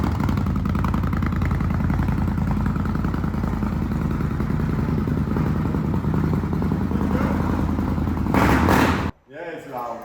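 An Indian motorcycle engine runs loudly and continuously close by at a custom bike event in Prague, a steady heavy rumble that cuts off sharply near the end, followed by brief talk.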